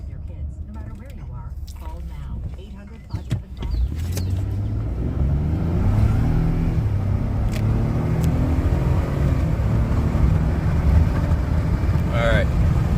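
A 2018 Ford F-150 with the 2.7-liter engine accelerating hard from a stop in sport mode, its engine note climbing through gear shifts as a loud, rising drone close inside the cab.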